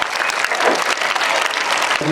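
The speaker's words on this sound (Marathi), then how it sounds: "स्वतःसाठी एकदा जोरात टाळ्या वाजवा" Audience applause fills a school assembly hall after a call for loud clapping, dense and steady throughout at close range, with no break in the noise.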